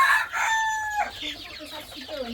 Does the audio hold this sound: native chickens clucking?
yes